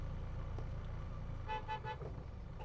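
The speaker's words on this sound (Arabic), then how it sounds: "الشخص اللي وراه كده لما بيديك كلاكس بيقولك امشي" A car behind honks at a driver on a narrow city street: three quick horn toots in a row over a low, steady engine rumble inside the car.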